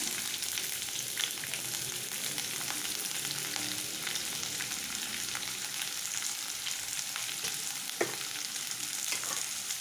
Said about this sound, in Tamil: எண்ணெய் காஞ்சதும் க்ளீன் பண்ணி வச்சுருந்த பிரண்டையை போட்டுக்கலாம்